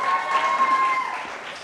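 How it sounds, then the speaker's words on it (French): A group of school reading-club pupils applaud, a brief moderate patter of clapping with a faint tonal hum underneath. "J'aimerais qu'on applaudisse."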